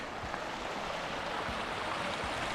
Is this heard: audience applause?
no